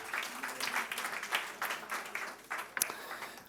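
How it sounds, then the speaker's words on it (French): A conference audience applauding, a steady wash of clapping from many hands that carries on for several seconds and fades slightly toward the end. "Merci de l'applaudir."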